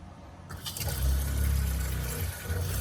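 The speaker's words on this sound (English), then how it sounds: "As you can hear, the pump is kind of loud" Water pump running inside a camper van, a loud steady low hum that starts after a brief quiet moment and continues with running water hissing over it.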